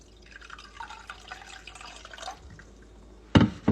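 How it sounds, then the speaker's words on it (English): Water is poured into a bowl of clear Orbeez beads, a soft, close trickle with small drips and splashes, ending with a couple of louder thuds. "what happens when I add water to the clear beads?"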